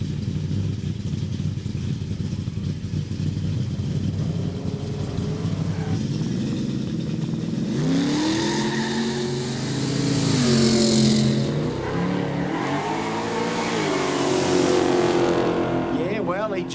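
A cranky Chevrolet Camaro drag car revs at a no prep drag racing event, its engine climbing and falling in several rising blips, loud and close, with an announcer talking over it.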